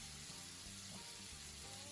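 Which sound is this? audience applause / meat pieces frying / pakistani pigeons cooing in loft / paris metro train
meat pieces frying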